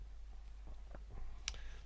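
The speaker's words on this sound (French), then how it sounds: "je vais appuyer sur la touche supprime de mon clavier" A computer keyboard's delete key is pressed, giving a quiet, sharp click, with one softer tap before it in an otherwise hushed room.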